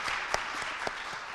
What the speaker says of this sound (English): So many claps, yeah.